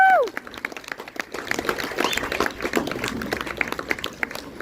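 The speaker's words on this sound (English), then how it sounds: "can I please have a big round of applause for the 9 breeds of sheep" Outdoor audience applause at the sheep show of the Great Yorkshire Show, a diffuse spread of clapping from a scattered crowd that follows a brief voice and holds steady for several seconds.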